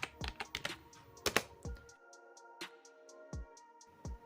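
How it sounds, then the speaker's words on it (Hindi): Close, crisp keystrokes on a computer keyboard come in a quick cluster of taps, followed by a few slower, isolated presses with gaps between them. "फिर से एक बार एग्ज़िट लिखेंगे"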